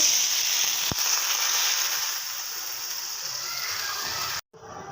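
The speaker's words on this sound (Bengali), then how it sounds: "এখন আমার ডালটা বাগা দিয়ে নিয়েছি" Hot oil tempering lentil dal sizzles in a steady, bright hiss that slowly eases, with a sharp clink near the start and an abrupt cut before the sizzle resumes.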